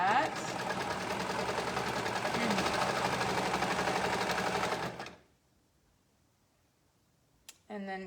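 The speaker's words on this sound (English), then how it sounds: "Okay, so I'm going to sew" A sewing machine stitches a fabric band in a steady, loud whirring run for about five seconds, then stops abruptly; after a pause comes a brief click and a short burst of renewed mechanical buzzing.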